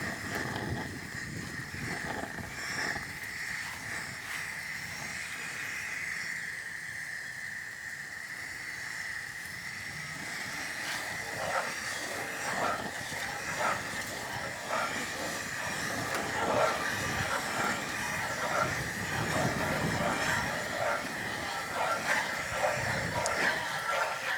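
Wind blowing outdoors on a gusty day near a cooking setup, a continuous broadband rushing hiss that grows slightly stronger over time, with a steady higher tone and intermittent clatter beneath a speaking voice.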